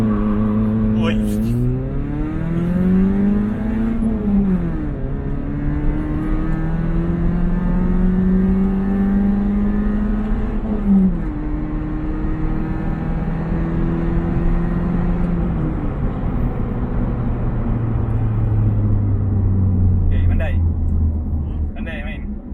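Proton Waja car launching hard with launch control, engine revving and climbing in pitch through several rising sweeps with drops between gear changes, loud and close, with a voice briefly heard near the start.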